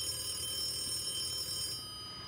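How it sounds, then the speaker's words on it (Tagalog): A telephone rings with a steady electronic bell-like trill that stops shortly before the end, fairly faint and alone, no voices. "Hanggang sa muling nag-ring ang telepono."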